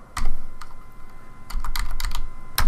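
Bursts of clicking keystrokes on a computer keyboard while working in road-design corridor assembly software, sharp taps in short clusters, close and fairly loud, with no talking.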